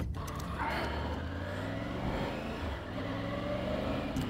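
A Triumph Tiger 900 GT Pro motorcycle pulls away onto the road, its engine droning loud and steady throughout with a rising rev as it sets off, no talk over it.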